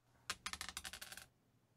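A four-sided D4 die is rolled onto a hard surface and gives a quick rattling clatter of rapid bouncing clicks that lasts about a second and then stops.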